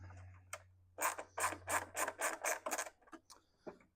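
A wrench working 7mm bolts loose on a taillight bracket, a close run of about eight quick ratcheting rasps with short pauses, preceded and followed by faint clicks over a low hum.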